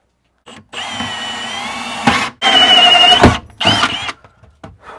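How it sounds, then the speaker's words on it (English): A power drill bores holes into brand-new solid hardwood RV dinette furniture, loud close whining bursts that bog down as the bit bites, separated by short pauses. "we're putting holes in this brand new, very expensive piece of furniture"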